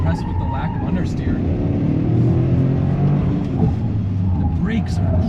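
A Toyota GR Corolla engine pulls hard in second gear, a loud, steady rumbling drone heard from inside the car with faint road noise underneath.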